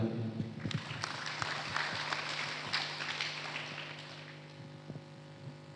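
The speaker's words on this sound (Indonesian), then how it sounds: "Kita beri tepuk tangan." An audience applauds at a church talk on the love of money, a fairly faint, steady patter of many hands that slowly thins out over several seconds.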